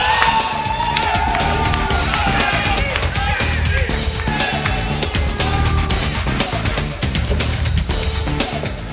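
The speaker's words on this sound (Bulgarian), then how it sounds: "Сега ще ви помоля за специални аплодисменти" Crowd applause and cheering at an awards event, a dense continuous roar of clapping and shouts that stays loud and steady throughout.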